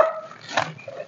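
Dogs give a quick, close bark or two in a single short burst.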